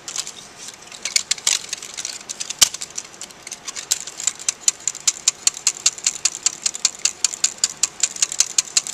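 A sling psychrometer whirled by hand makes a fast, regular ticking rattle, the sharp clicks repeating steadily and close by with no talking.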